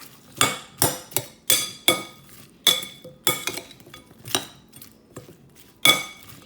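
A utensil mixes seasoned prawns for Jamaican-style peppered prawns in a bowl, striking the bowl in about a dozen sharp, ringing clinks at an uneven rhythm, close and clear with quiet pauses between.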